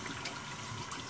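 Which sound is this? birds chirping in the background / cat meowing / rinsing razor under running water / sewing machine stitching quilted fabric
rinsing razor under running water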